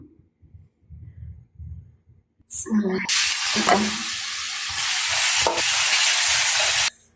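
Eggs dropped into a hot frying pan burst into a loud, sustained sizzle lasting several seconds, preceded by a few quiet thumps and stirring sounds.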